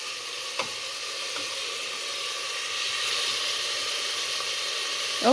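Green beef curry sizzles and hisses steadily in a hot pan while being stirred, with a few faint scrapes and a brief clatter near the end, and no talking.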